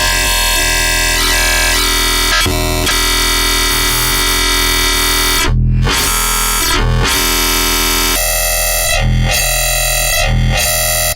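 Loud, distorted dubstep whistle synth tones made with FM synthesis in Serum, with harsh buzzing textures and abrupt gated cuts, shifting pitch in a repeating pattern.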